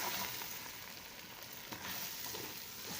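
Egusi soup being stirred in a pot, a soft frying sizzle with faint scraping strokes, quiet and continuous, no voices.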